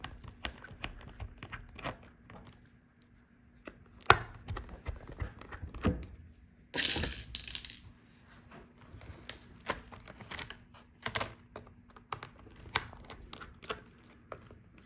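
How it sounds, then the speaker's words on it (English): Small screws being removed from a Lenovo ThinkPad X1 Carbon Gen 9 motherboard: sparse close clicks, taps and light scraping of a screwdriver, with an occasional louder rustle or clatter, against a quiet background. "continue with taking out all the screws from the motherboard"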